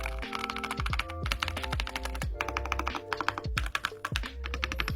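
Someone types on a MageGee LIGHT87 80% tri-mode creamy mechanical keyboard, gasket mounted and hot swappable. Crisp, closely heard key clacks come in quick bursts with short pauses, with deeper thocks mixed in.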